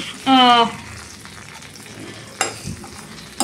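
Food frying in butter in a pan, a steady sizzle with a louder burst as it is tossed and stirred, plus a couple of short clanks near the end.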